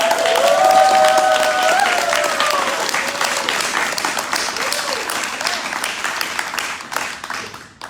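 An audience claps at a voting-rights event, a loud burst of applause that starts full and slowly thins out over several seconds with scattered claps, with no talk over it.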